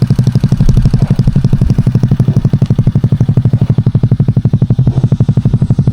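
A motorcycle engine with a worn piston ring idles close up in a loud, fast, even clatter of pulses that holds steady throughout, with no talking.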